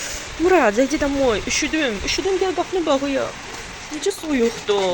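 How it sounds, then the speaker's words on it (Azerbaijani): Steady rain patters outside during a thunderstorm, a soft continuous wash heard beneath a woman's close, continuous speech. "Sən demə, çöldə yağış yağır."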